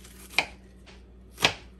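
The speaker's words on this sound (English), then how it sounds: "You cut up your onion how you want, but I cut it up like this" A knife chops an onion on a cutting board for a Jamaican-style steamed fish in coconut sauce: two sharp, distinct thuds about a second apart, close and clear against a quiet kitchen background.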